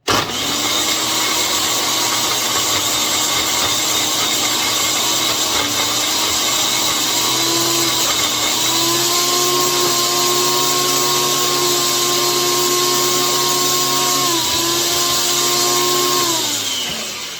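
A Ninja blender whips up a protein pudding, a loud, steady motor whine that holds its pitch, then drops lower as the mixture thickens before it winds down.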